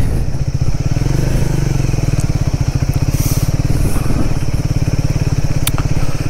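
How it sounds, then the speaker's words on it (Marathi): A KTM 390 Adventure motorcycle rides off-road on the way to Muktinath in Nepal, its single-cylinder engine thumping steadily and loud up close throughout, with wind and faint rattles over the rough track. "आज पहिल्यांदा म्हणजे बाईक घेतल्यापासून एवढी ऑफरोडिंग या बाईकवरती केली असेल"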